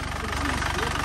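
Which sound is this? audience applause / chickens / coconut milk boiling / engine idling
engine idling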